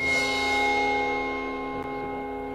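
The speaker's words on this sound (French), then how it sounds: "ça, c'est un son de cymbale" A single cymbal crash rings out and decays slowly with a shimmering, bright wash, fading over a couple of seconds.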